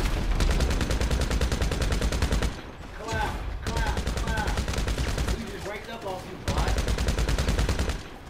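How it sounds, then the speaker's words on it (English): Rapid gunfire in a first-person shooter video game, shots fired through a wall in bursts that fill most of the clip, loud and close with brief lulls and some background voice chatter. "My nigga shooting through the wall."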